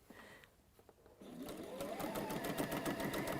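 Sewing machine stitching fabric pieces together, starting after a quiet moment and running as a close, steady rapid mechanical chatter to the end.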